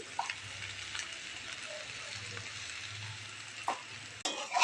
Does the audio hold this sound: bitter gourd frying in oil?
yes